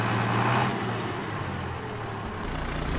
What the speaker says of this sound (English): So let's start the engine and see what it sounds like.